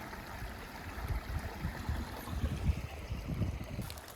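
A waterfall pours and splashes steadily nearby, a rumbling, churning flow with uneven bursts of low-pitched energy.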